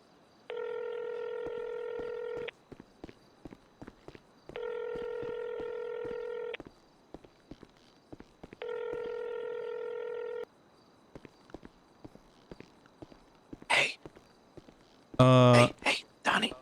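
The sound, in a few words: phone dialing tones in a video game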